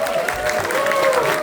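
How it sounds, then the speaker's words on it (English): Audience applause in a cinema as a film director is welcomed for a post-screening Q&A, a steady wash of clapping with some crowd noise running through the whole short stretch. "Give it up for Tom."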